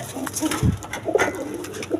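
Pigeons in a loft of cream-coloured birds coo in soft, low repeated calls, several bursts spread across the moment, close by with faint background rustle.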